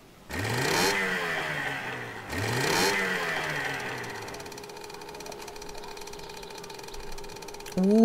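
A boat engine in a video game revs up twice in quick rising sweeps, then settles into a steady mechanical drone with a clattering hum, fairly close and loud.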